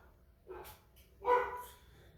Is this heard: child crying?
no